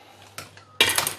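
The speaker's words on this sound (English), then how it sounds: "And cover it with a lid." A metal lid set down onto a cooking pot holding fried beehoon noodles, with a light clink and then a louder, ringing clatter of metal on metal, close by and alone.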